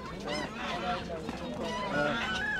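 Geese honk repeatedly at a busy poultry market in Antalya, several birds calling over a steady crowd murmur with some nearby talk.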